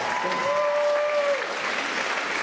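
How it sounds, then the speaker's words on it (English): A live audience at the Mock Rock 2013 show gives a full round of applause. The dense clapping holds steady for over two seconds, and a faint whistle rises briefly above it. "give him a round of applause"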